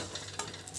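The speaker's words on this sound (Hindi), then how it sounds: "मम्मी आ गई है सब्ज़ी छौंकने के लिए" Vegetables hitting hot oil for a tempering (chhaunk) in a home kitchen, a steady crackling sizzle with a quick stir and a light clink of a utensil near the pan, close and without talk.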